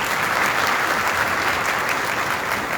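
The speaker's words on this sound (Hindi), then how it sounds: "हम अपनी क्वायर के लिए भी तालियां बजाएंगे।" During an Easter main service, a church congregation applauds the choir with full, dense clapping that holds at a steady loudness for nearly three seconds.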